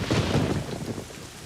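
Steady rain falls in a dense, hissing wash, loud and close throughout, with a heavier rumbling stretch early on that eases slightly toward the end, no voices present.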